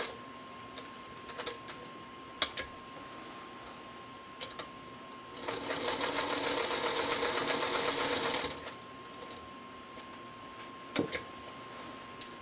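Sewing machine stitching along a quilt edge, with a steady rapid run of stitches for about three seconds in the middle, surrounded by quiet pauses and a few isolated clicks of the mechanism and handling.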